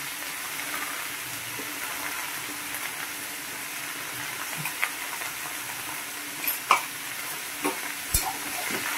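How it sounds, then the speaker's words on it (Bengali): Ground cumin with ginger and green chilli paste sizzles in a pan for a labra vegetable dish, a steady low crackle with occasional spoon scrapes and taps while the spices are stirred. "এবার ভালো করে নাড়বো।"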